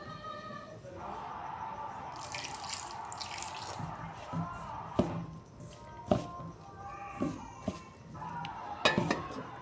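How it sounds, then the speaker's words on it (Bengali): Flour dough for kathi goja is kneaded by hand with water, giving wet squelches, slaps and clicks in an irregular rhythm over a faint running-water background, close and without talk. "এবার আমি এটাকে আস্তে আস্তে জল দিয়ে মেখে নেব।"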